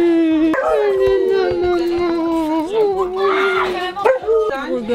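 A dog cries and howls in long, wavering, high-pitched whines that rise and fall, close to the listener, with brief whimpering breaks toward the end.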